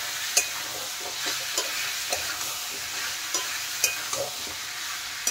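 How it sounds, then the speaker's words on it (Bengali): Potatoes and jackfruit seeds are stirred into a frying spice paste in a pot, giving soft sizzling, scraping and occasional sharp spatula knocks, close and fairly quiet, with no speech. "এখন নেড়ে চেড়ে ভালোভাবে মিশিয়ে দেব"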